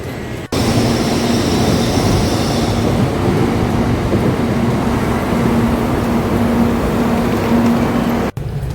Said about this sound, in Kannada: ಇಲ್ಲಿ 3 ನಿಮಿಷಕ್ಕೆ ಒಂದು ಬುಲೆಟ್ ಟ್ರೈನ್ ನಿಲ್ಲಿಸಿ ಬುಲೆಟ್ ಟ್ರೈನ್ ಟಂಗ್ ಅಂತ ಹೋಗ್ಬಿಡುತ್ತೆ